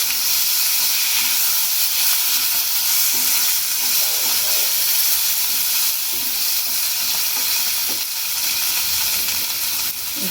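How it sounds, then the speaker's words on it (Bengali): Potatoes fry lightly in oil seasoned with panch phoron, a steady loud sizzle and hiss running unbroken throughout, with faint stirring scrapes underneath and no voices. "আলুগুলো একটুখানি অল্প একটু ভাজা ভাজা করে নিই।"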